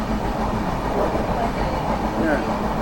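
Steady low rumble and rattle of a passenger train running on rails between Visakhapatnam and Varanasi, heard from inside the coach as a continuous drone with people talking over it.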